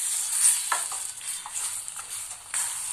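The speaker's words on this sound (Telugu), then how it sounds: "ఈ విధంగా బాగా అంతా కలిసేటట్టుగా ఒకరోజు సేపు నూనెలో వేపుకోవాలండి" Chicken pieces coated in masala paste fry in oil for a chicken sherva, giving a steady close hiss with a few soft stirring scrapes spaced through the sizzle, and no voices.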